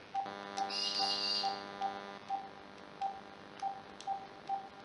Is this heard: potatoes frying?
no